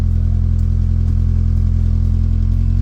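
A Honda Accord fitted with a K24 engine idles steadily as it is put in gear, a constant close mechanical hum with a low regular pulse and no talking.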